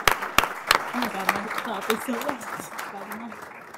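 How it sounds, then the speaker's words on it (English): Audience applause at a school Friends of Education event, broad steady clapping lasting several seconds with a voice speaking over it. "Let's give her a round of applause."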